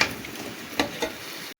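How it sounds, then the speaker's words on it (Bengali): Elephant foot yam frying in oil with salt, turmeric, cumin and nigella seeds gives a soft, steady sizzle with a couple of light stirring clicks, then cuts off sharply. "আমি লবণ হলুদ দিয়ে ওলটা এখন ভাজি করছি"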